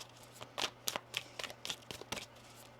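Tarot cards shuffled by hand, a quick run of soft riffling flutters and slaps in irregular bursts, close and fairly quiet with no talking.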